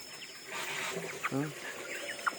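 Chickens cluck softly in the distance, a few short calls over a steady outdoor hum.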